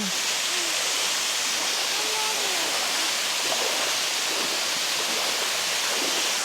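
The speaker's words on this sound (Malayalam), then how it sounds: "ഇതാ കാരക്കുണ്ട് വെള്ളച്ചാട്ടം" Karakkund waterfall in Kannur roars as a steady, dense rush of falling water, loud and unbroken from start to finish with no voices.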